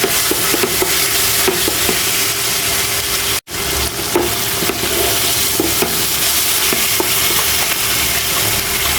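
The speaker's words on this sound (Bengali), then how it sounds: "একটু জিরা বাটা, রসুন বাটা আর একটু আদা বাটা দিয়ে কষাইতেছি" Cumin, garlic and ginger paste sautéing in a pan, a continuous close sizzle with repeated stirring scrapes and one brief cut in the sound.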